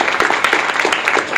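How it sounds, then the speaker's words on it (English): Audience applause closing a scientific publishing careers workshop session, steady dense clapping throughout the short stretch with no talk over it. "let's give them applause"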